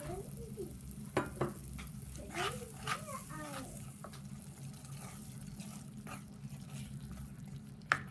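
Masala sizzling and stirred in a pan with a splash of water for a fish curry, a soft steady fry broken by scraping stirs and faint clinks, with quiet background noise throughout.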